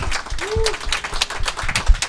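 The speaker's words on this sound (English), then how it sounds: "Round of applause." Audience applause for guests at a live BlizzCon 2017 podcast taping, a steady patter of many hands clapping close by, with a brief voice rising over it near the start.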